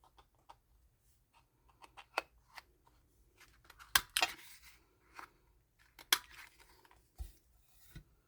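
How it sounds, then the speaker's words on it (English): Scissors snip the corners of paper for a Christmas journal, a quiet run of short, crisp cuts in an irregular rhythm, heard close and alone. "just trim the corners."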